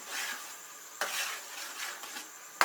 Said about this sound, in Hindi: अब हम अपने स्लाइसर की मदद से इसको मिक्स करेंगे।